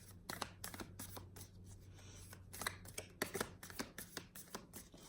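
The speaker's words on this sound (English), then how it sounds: "And these cards are so stiff and hard to shuffle." Stiff playing cards being shuffled, a run of sharp riffling bursts and snaps repeating unevenly, close and fairly quiet with no talking.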